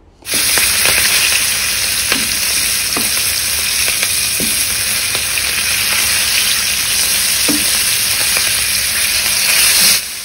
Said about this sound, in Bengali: ওই জন্য মাছটা ভেজে নেব